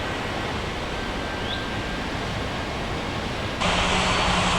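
Airliner engines roaring during takeoff in an air traffic control game at a fictional airport, a steady broad rushing drone that swells louder and brighter near the end, with no talk.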